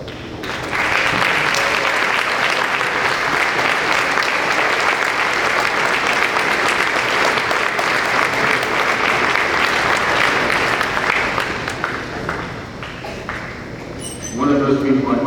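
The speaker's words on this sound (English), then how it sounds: "I'd like for them to give them a round of applause." A ceremony audience claps for faculty and staff at a military academy baccalaureate and awards event, with dense sustained applause filling the hall for about twelve seconds before thinning out.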